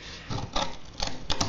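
Scissors snip through material in a short series of crisp cuts, several distinct close clicks and snaps, with two quick snips near the end.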